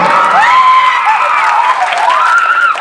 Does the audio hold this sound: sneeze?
no